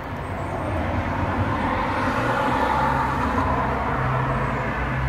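Traffic rumbles past with a broad, steady whoosh of cars, swelling slightly midway, with a few faint bird chirps above.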